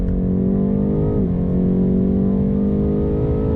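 A BMW M8 Competition engine accelerates hard from inside the cabin, a loud steady harmonic drone with a brief pitch dip partway through before climbing again, with no talking over it.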